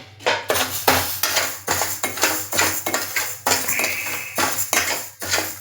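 Moong dal dry-roasting in a pan, stirred with a metal spoon that scrapes and clinks against the pan in quick repeated strokes, close and clear with no voices.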